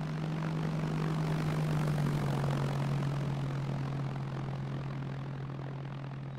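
An airplane taking off, a loud, steady engine roar with a strong low hum that holds evenly and then fades slightly as the aircraft moves away.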